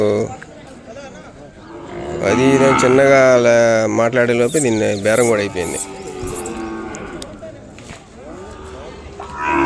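A four-month-old calf at a cattle market lets out a loud, drawn-out moo lasting a few seconds, then a shorter call, with someone talking before and after amid background chatter.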